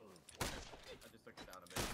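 Gunfire in the video game Block N Load, two loud sharp bursts over softer game noise, with a voice talking in between.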